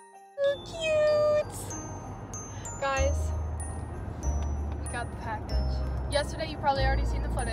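Several high-pitched kitten meows from a new Christmas kitten, near and clear, mixed with soft jingling and talk from people nearby.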